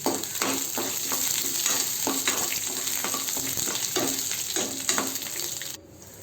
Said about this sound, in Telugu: అల్లం వెల్లుల్లి అండి, దీన్ని కూడా ఫ్రై చేసుకోవాలి.